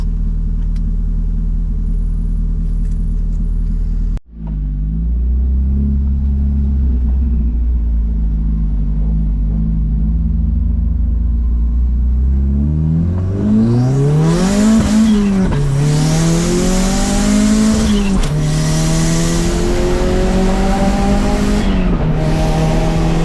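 A 280 hp turbocharged car with a broken manifold accelerates hard, its engine note climbing and dropping through repeated gear changes, including a shift into fifth, loud and close with a steady rumble throughout.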